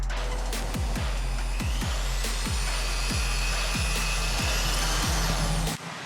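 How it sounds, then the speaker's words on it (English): A power drill bores holes in a GSXR 600 motorcycle exhaust, a loud steady whine running close and continuous throughout. Rhythmic low knocks repeat beneath it, and it cuts off abruptly near the end. "I've got the hole successfully drilled all around."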